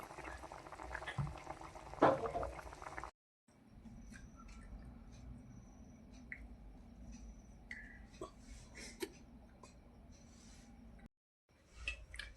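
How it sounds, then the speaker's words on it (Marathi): Soft bubbling of a pot of village-style chopda fish curry on the boil, with scattered small pops and gurgles over a low hiss, quiet and close, broken by brief gaps. "आपले झालेले मासे आता उकळी पण चांगली आली"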